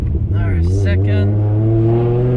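Nissan R33 with a forged RB25DET turbo engine pulling hard in second gear, its note climbing steadily, with a brief airy turbo flutter near the start. A voice seems to be present under the engine.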